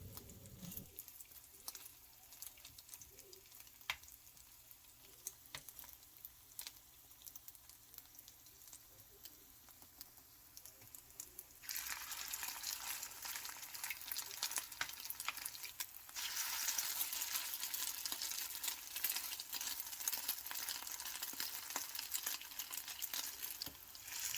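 Korean pollack pancake frying in oil in a pan over low-medium heat, a soft steady sizzle that grows noticeably louder and brighter partway through, with faint clinks, no talking.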